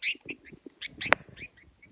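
Tiny elderly pet budgie perched on a person, giving a few faint, scratchy chirps and squeaks in short bursts up close.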